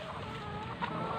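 Tethered farm chickens clucking steadily in a backyard, a dense, continuous flock sound close to the microphone with one slightly louder squawk near the end.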